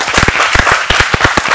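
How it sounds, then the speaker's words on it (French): Applause for a circus performer who has just hopped off a balance ball, with close, loud, uneven hand claps from a small group ringing out steadily across a lively room. "Bravo, on peut l'applaudir."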